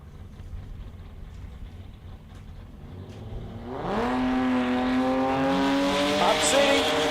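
Sports compact drag cars launch down the strip at an Australian drag racing meet, one a high-horsepower VL, with engines rising into a loud, sustained high-revving roar that climbs in pitch, while an announcer talks over it.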